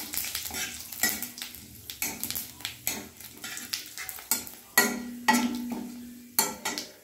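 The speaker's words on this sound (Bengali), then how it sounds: "কড়াইয়ে তেল গরম করে নিয়ে 2টো তেজপাতা, 1টা শুকনো লঙ্কা আর 5 ফোড়ন দিয়ে দিলাম।" Bay leaves, a dry red chili and five-spice seeds frying in hot oil in a kadai, soft sizzling broken by a rhythmic series of metal spoon scrapes and clinks against the pan, close and without speech.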